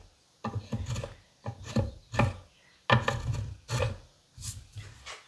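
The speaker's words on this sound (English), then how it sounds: "he also gave me this Japanese planer, which I think is very interesting" A Japanese pull plane drawn across a wood surface toward the user, giving a series of about seven rhythmic rasping strokes, close and fairly loud with short pauses between.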